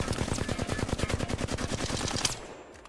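Flatline assault rifle from Apex Legends firing a rapid, loud sustained burst of evenly spaced automatic shots for about two seconds, then cutting off, with no talking.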